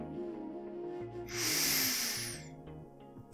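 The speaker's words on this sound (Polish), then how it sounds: "Weź głęboki wdech." A person takes one slow, deep breath in through the nose during a guided relaxation breathing exercise, a close hissing inhale swelling over about a second and a half beneath a soft sustained background tone.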